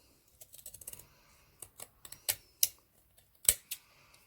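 Scissors cut ribbon for a hair bow, with a series of sharp, close snips and clicks, the louder ones spaced irregularly and the rest quieter in between, with no talking.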